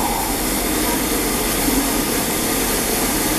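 Steam locomotive 60103 Flying Scotsman hauling The Cotswolds Venturer through Reading, a loud continuous roar and rush of the passing train close by, filling the whole short stretch.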